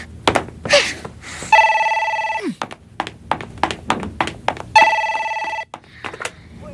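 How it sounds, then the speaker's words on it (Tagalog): An old-style telephone bell rings in two long trilling bursts, with knocks, taps and a short gasp scattered between the rings. "sagutin mo ang telepono"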